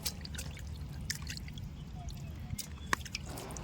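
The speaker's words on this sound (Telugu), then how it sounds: "మనమైతే ఇప్పుడు ఒక్కొక్క చేపను అయితే కడుక్కొని బౌల్లో అయితే వేసుకుంటున్నాం" Small wet drips and squishy splashes of water as fish are rinsed one at a time and dropped into a bowl, with faint low-level background sound and no talk.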